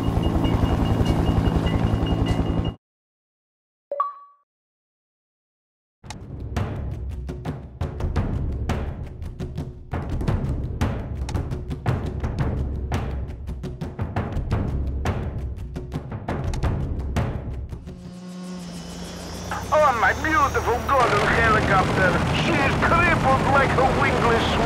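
A helicopter in flight in the game Battlefield: Bad Company, a loud continuous rotor chop with a rapid rhythmic pulse that runs for many seconds. Explosive bursts and rumbling sound effects break in near the end.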